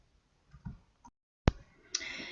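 A single sharp mouse click on a button in Photoshop CC 2020, close and crisp, with a few faint desk clicks before it and quiet room noise after.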